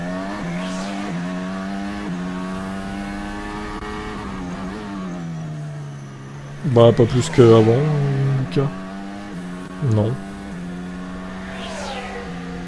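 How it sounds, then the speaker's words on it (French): Formula 1 car engines echo off city buildings at the Azerbaijan Grand Prix practice, a sustained droning whine that shifts in pitch as cars pass, heard under French commentators talking. "le son des moteurs, il est, comment dire, réverbéré par les bâtiments"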